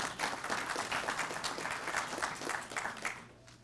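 Audience applause at a police department promotions and swearing-in ceremony in Southfield, a steady round of many hands clapping at moderate distance that fades toward the end.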